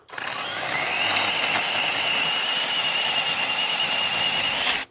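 A battery chainsaw cuts steadily through an olive tree branch during hard pruning, a loud continuous high whine held close for about four seconds before stopping abruptly, with no talk over it.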